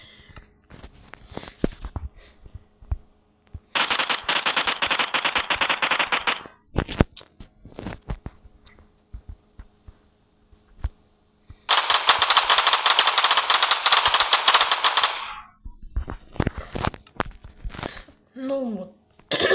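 Automatic guns fire in a video game in two long, rapid sustained bursts, between scattered single shots and clicks, loud and close.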